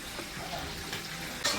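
Pesto penne pasta is stirred in a hot pan with sauce, a steady soft sizzle and wet tossing over a short stretch, ending in a brighter scrape.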